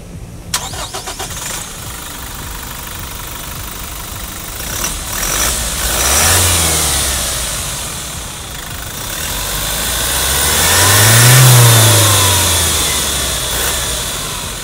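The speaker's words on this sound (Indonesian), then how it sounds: "Yuk kita dengar suara dieselnya." A Toyota Kijang Innova TRD Sportivo turbo diesel engine cranks and starts, then idles before being revved twice, each rev swelling up and falling back, loud and close with no talking.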